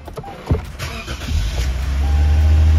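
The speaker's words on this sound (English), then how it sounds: "So I'm gonna start the engine." A Lexus GS300/GS350 engine cranks with a brief whir, catches and settles into a steady, close idle that grows slightly louder.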